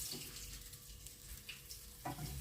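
Small capelin fish fry in hot oil in a pan, giving a steady soft sizzle throughout with a few faint clinks and a brief stir near the end.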